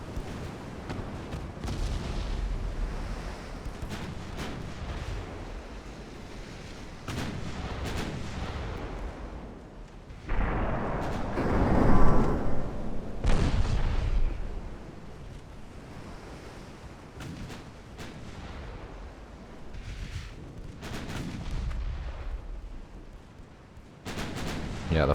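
Heavy naval gunfire from 5-inch secondary batteries in the Ultimate Admiral Dreadnoughts game, heard as dull booming blasts over a constant roar of ocean surf and wind, swelling into a louder burst midway.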